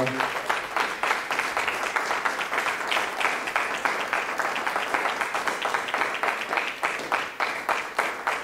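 A church congregation applauding and acclaiming the Lord, a steady, lively stream of many hands clapping in a fast rhythm throughout, fairly close and unbroken, with faint voices underneath.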